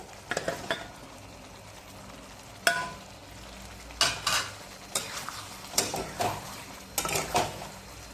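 Chicken is fried and stirred in a pan for chicken chilli, with irregular scraping and clinking of a spoon against the metal pan over a faint, constant sizzle, in sharp clustered bursts.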